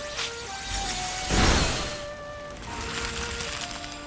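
A Vanillite's Ice Beam freezing a fountain's water in Pokemon Legends: Z-A, a swelling icy whoosh and crackle peaking midway over steady game music, then fading back under the score.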